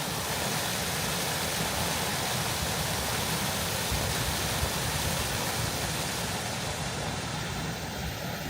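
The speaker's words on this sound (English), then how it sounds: "it's like a mini waterfall right here." Steady, dense rushing of a small waterfall in downtown Toronto, loud and close, a continuous wash of falling water that stays constant throughout with no pauses or voices.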